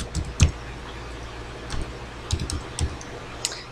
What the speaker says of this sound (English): So I type it all up here.